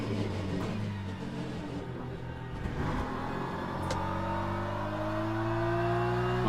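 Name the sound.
LMP2 prototype race car engine in the video game Le Mans Ultimate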